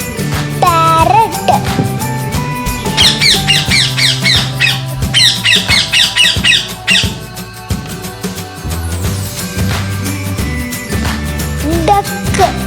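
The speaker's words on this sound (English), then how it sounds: "parrot" A parrot gives repeated harsh, high squawks in close bursts over steady background music, with the calls strongest through the middle of the clip.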